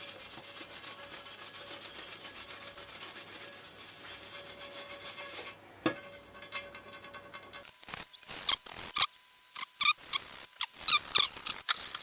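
A small toothbrush scrubs residue from a saw blade's teeth, first as a steady close rubbing hiss, then as short irregular bursts of brushing between pauses.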